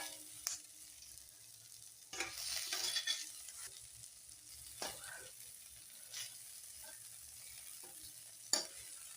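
Food frying in oil in a pan at medium heat, stirred and turned over, with a soft steady sizzle broken by a few louder scraping stirs and clatters, no voices.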